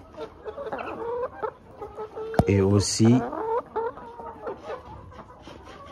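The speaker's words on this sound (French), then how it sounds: "il y a une poule là qui vous dit bonjour, qui vous salue" A hen clucks and cackles close by in short bursts, with a person briefly speaking over the start.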